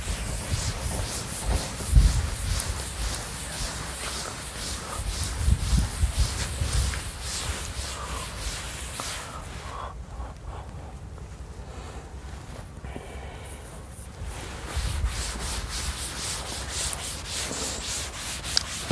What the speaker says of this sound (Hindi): अब इसको रब करते हैं।